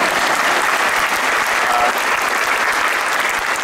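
A large commencement crowd at a business school graduation gives loud, steady applause, a continuous dense roar of clapping with no break.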